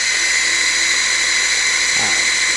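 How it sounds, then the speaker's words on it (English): A power drill spins in reverse in a garage, driving an engine's hollow pushrods to pump oil, giving a steady, loud, continuous motor whine with no talking. "this is reverse rotation, so I got the drill going backwards, and just hit the drill."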